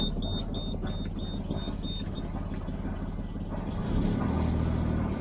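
A boat's diesel engine cranks and catches after a glow plug preheat, then runs with a steady low rumble while a beeping warning tone pulses early on and stops.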